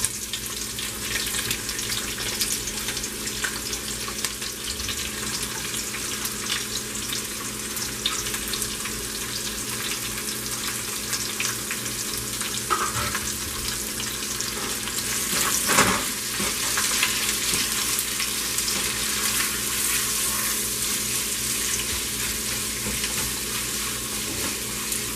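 Onions sautéing in a pan for mutton biryani, a steady close sizzle and hiss running throughout with occasional stirring scrapes, one louder clatter midway, no voices.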